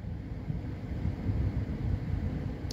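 A 1996 Duracraft single window fan running on its high setting gives off a low, steady whooshing rumble of moving air, close to the microphone and without voices.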